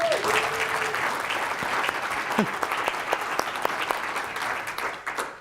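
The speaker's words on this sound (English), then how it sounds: "Feel free to give them a little bit of an applause, that'd be good" Audience applause for startup presenters at the Dartmouth Entrepreneurs Forum startup competition: steady, moderately loud clapping from a room crowd that holds for several seconds before thinning out near the end.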